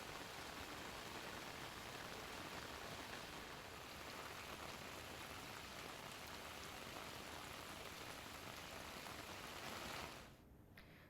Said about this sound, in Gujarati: જૂનાગઢના માંગરોળમાં ધોધમાર વરસાદ પડ્યો.